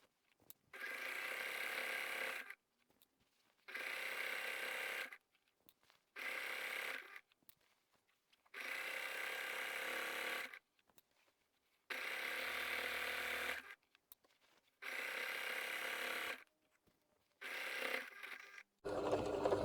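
A sewing machine stitches around the top of a fabric laundry bag, running in steady bursts of a few seconds separated by short pauses, close and alone.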